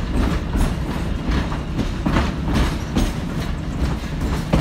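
Virginia & Truckee Railroad steam train No. 29 rolls along the rails, a steady rumbling clatter of wheels with rhythmic clicks, heard close from on board.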